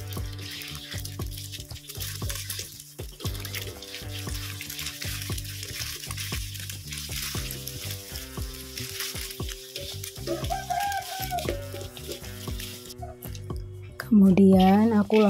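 Two eggs being fried and scrambled in a pan, a steady soft sizzle with intermittent stirring and scraping clicks, fairly faint and close, with brief voice near the end.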